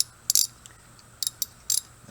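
A 1/2 inch ratchet turns a 13/16 spark plug socket, giving several quick bursts of sharp, close mechanical clicks separated by short pauses in a quiet space.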